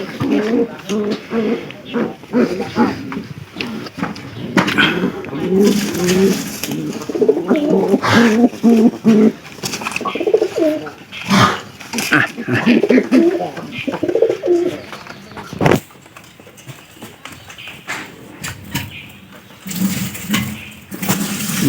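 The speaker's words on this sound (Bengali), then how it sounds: "এখানকার আস্তে আস্তে কবুতরগুলা ছাড়িয়ে দিব।" Pigeons coo repeatedly in low, throaty bursts, with a busy background of rustling and occasional knocks from nearby activity.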